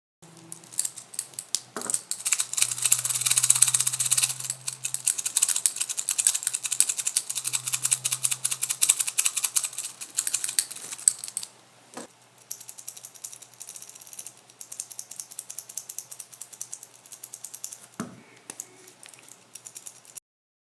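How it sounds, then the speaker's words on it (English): Hollow center links on the bracelet of a Rolex GMT-Master II 16710 rattle and jingle up close in bursts of dense metallic clicking, busiest in the first half and thinning to sparser ticks later. "those hollow center links, which produce that jingling or rattling"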